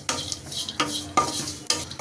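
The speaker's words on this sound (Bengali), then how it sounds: "শুটকিগুলো একটু লাল লাল করে ভেজে নেব" Dried fish frying in a pan sizzles under three or four sharp stirring scrapes of a spatula, each burst rising suddenly and then settling back to the hiss.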